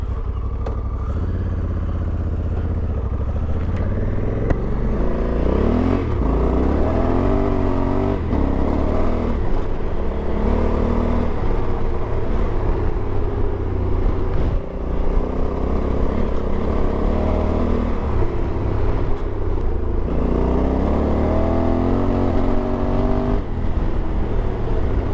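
A Honda Africa Twin 1100 adventure motorcycle, Adventure Sports version, rides along a road, its engine droning steadily and loud throughout, with pitch rising and falling through repeated gear changes and accelerations.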